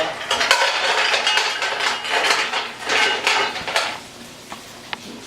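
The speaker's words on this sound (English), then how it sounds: "now we're going to put our clams in." Clams tipped into a metal pan for seafood chowder, a cluster of close clattering shell-on-metal knocks for a few seconds, then fading to a faint sizzle with a couple of small clicks.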